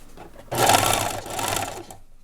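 A sewing machine stitches fabric for a scrunchie in one quick burst of rapid whirring lasting about a second and a half, close and loud, starting and stopping abruptly with no talking.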